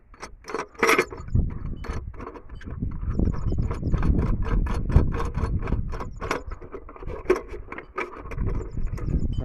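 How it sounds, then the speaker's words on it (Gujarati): Metal bolt being tightened by hand against two washers on a spool fitting, giving a run of small metallic clinks, rattles and ratcheting clicks, close and fairly busy throughout. "પછી એને આ રીતના બે વોશર મૂકીને એક સાઈડથી બોલ્ટ ટાઈટ કરી દેવાનો છે."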